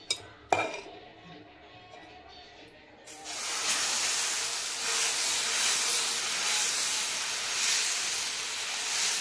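Pesarattu dosa batter hits a hot pan and sizzles loudly in a steady hiss, after a few sharp clinks of utensils.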